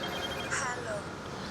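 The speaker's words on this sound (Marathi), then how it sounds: "आईचा फोन." A mobile phone rings with a faint, thin ringtone over a steady background hum while voices murmur nearby.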